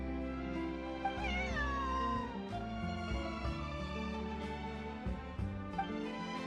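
Cat meowing in the video game Genshin Impact, several drawn-out, tonal meows rising and falling over soft game background music, fairly close and clear with no talking.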